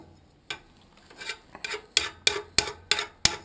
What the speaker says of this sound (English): I'll push it down into the ash bucket bin pan thing.